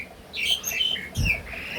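A house-kept songbird calls nearby in two bright, squawky chirping phrases separated by a short gap, fairly loud and alone.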